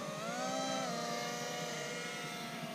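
FMS A-10 Thunderbolt II RC jet with 70mm ducted fans passing overhead, a sustained loud whining turbine-like roar with a slight pitch drop as it flies by.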